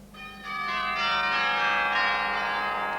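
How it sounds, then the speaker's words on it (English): Chimes on the Majestic cinema organ ring out in a sustained, bright peal of layered bell tones that swell after a soft start and hold steady, close and fairly loud with no voices. "Take, for instance, these, the chimes."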